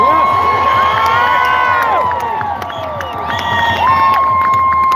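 Crowd at a street march against mandates cheers and whoops loudly and steadily, with a whistle and shouts rising out of the noise and dipping briefly before swelling again.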